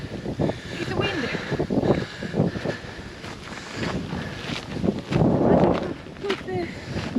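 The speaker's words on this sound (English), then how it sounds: "It's a wind." Wind gusting at a waterfall viewpoint in Kuantan, Pahang, Malaysia, a steady rushing roar that swells louder midway, heard under people chatting near the microphone.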